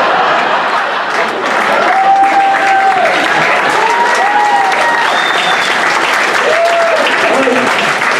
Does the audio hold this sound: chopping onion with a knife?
no